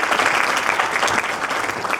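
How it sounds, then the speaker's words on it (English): Conference audience at an academic session on Islamophobia giving a steady, dense round of applause for the speakers, loud and continuous throughout. "Please give a round of applause for all three speakers to be with us today."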